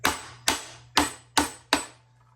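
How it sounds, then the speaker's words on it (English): Five sharp hammer blows ring out at an even pace against a garbage disposal under a sink, each a crisp, close impact that quickly fades. "Then I'm going to smack it with the hammer."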